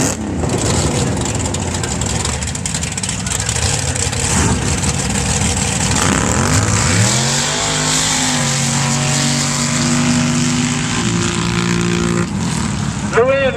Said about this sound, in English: And the left lane is going to be Jerry on the Can-Am.